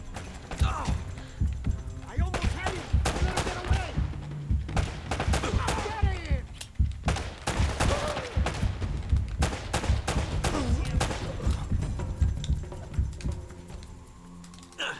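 Bursts of rapid gunfire from the video game Uncharted: Drake's Fortune, loud and repeated across the whole stretch in clustered volleys with short gaps, over a steady low hum.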